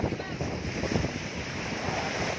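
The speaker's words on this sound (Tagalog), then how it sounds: "Napakalakas ng alon, agos ng tubig" Rough, churning surf at Isla Verde rushes steadily beneath heavy wind buffeting the microphone, a loud, continuous roar of choppy sea.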